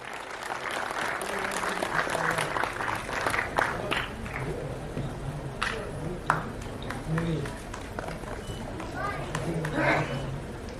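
Crowd applause at the Dada Saheb Phalke Film Foundation Awards 2024 ceremony, many hands clapping continuously in a large room, with a speaking voice over the clapping.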